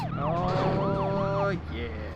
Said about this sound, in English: And then I'll use the siren now